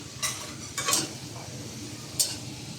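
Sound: frying and stirring spicy potato balls in oil

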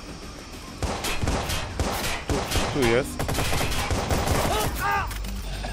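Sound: gunfire in the video game Watch Dogs

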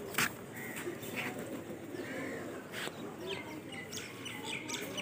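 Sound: pigeons cooing and flying

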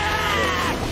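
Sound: person imitating Baku's scream "Shine!"

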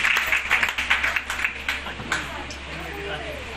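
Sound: audience applause

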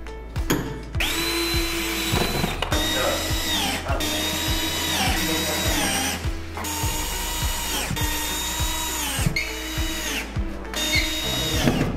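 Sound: power screwdriver driving self-tapping screws into bed frame brackets

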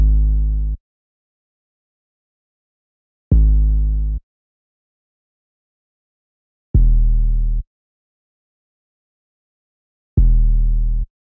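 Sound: 808 bass in a UK drill beat, FL Studio

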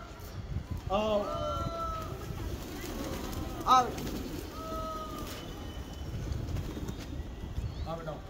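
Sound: pigeon arriving

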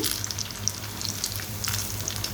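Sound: noodle fritters frying in oil

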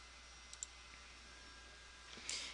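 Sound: computer mouse click

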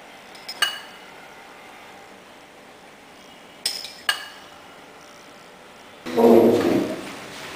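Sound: spoon clinking in a pan while spooning marinade over bacon-wrapped shrimp

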